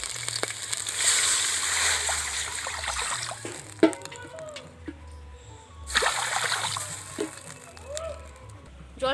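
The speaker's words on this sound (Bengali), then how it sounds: "পদ্মমানের পাতাটা সেদ্ধ করার জন্য আমি কড়াতে প্রথম জল দিয়ে দিচ্ছি" Water poured into a wok to boil lotus taro leaves, a soft splashing and trickling stream with a few clinks of cookware, fairly faint in a kitchen.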